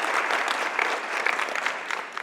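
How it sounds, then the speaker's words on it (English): Brief burst of dense audience applause at a health and climate finance event, full and steady throughout with a few sharper claps standing out toward the end. "I want to give you a round of applause"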